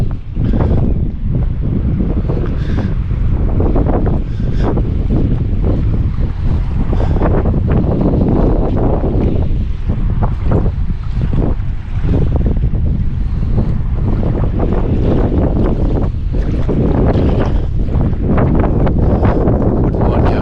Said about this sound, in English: Shame it's so windy.